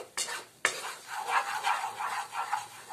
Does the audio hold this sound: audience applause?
no